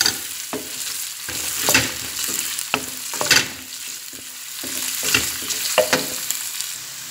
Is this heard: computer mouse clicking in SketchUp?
no